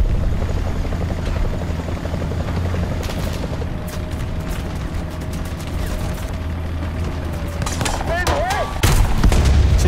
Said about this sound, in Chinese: 又一台直升机